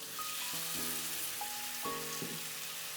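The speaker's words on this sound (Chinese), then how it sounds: "就可以把腌制好的蛙肉下锅煮了" Marinated frog meat drops into a hot wok with garlic, ginger and scallion whites, setting off a steady loud sizzle with a few clatters of utensil on metal, no talk.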